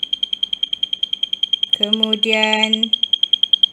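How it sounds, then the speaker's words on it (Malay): Buzzer on a safety gate system, a rapid, continuous pulsing high beep repeating evenly throughout, with a person speaking briefly over it midway. "LED hijau akan menyala dan buzzer juga akan berbunyi"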